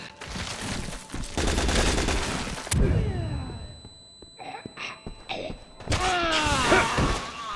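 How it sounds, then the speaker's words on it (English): A flash grenade blast in Resident Evil 6 lands as a sharp, loud burst amid rattling gunfire, heavy thuds and slams, with more impacts and clatter trailing after. "Did that flash grenade kill him, or did Sherry kill him?"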